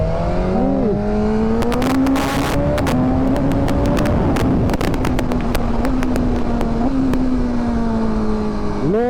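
A BMW S1000RR motorcycle engine drones loud and close throughout a ride, its pitch rising and settling with small throttle changes, with wind buffeting and scattered sharp ticks over the steady exhaust note.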